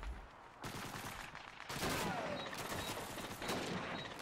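Call of Duty 2 combat on Xbox 360, with bursts of rifle and machine-gun fire crackling densely and continuously, loud and near, joined by a faint voice.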